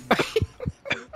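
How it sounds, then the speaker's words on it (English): A man coughs in a quick series of rough, chesty bursts at close range, the hacking broken up in an uneven rhythm. "Now you coughing."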